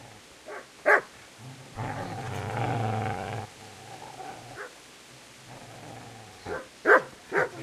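A dog in the video game Kingdom Come: Deliverance growls in a sustained rumble and gives a few sharp barks before and after it, fairly close, with quieter gaps between.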